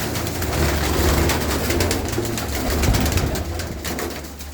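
A racing pigeon that sat out a long endurance flight coos low and steadily, close by and fairly loud, among a dense rustling hubbub of other birds.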